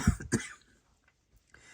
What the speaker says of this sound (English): Excuse me, I'm still coughing a little bit.